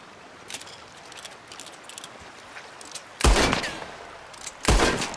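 Two loud close gunshots ring out in the western video game Red Dead Redemption 2, each a sharp blast with a short echoing tail, set against faint ambient clicks.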